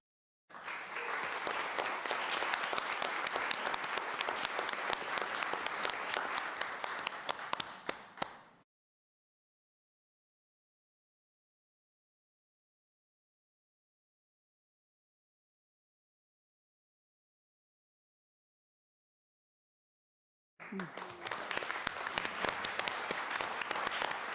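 Sustained audience applause for district winners at a school board of education meeting, dense and steady for about eight seconds, then silence, then the clapping resumes near the end.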